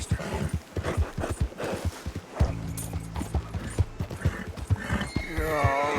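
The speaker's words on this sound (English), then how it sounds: "O cavalo idiota não pulou." Horse hooves clip-clop in Red Dead Redemption 2 in an uneven, fairly loud run of hoofbeats, with a brief whinny and steady game background sounds alongside.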